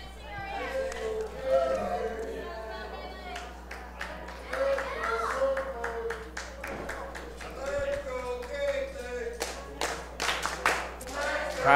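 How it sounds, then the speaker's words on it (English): A crowd at an independent pro wrestling match claps in scattered, rising rhythm with light chatter, building toward louder bursts of applause at the end while a commentator talks over it. "Crowd getting behind Kaitlyn Marie"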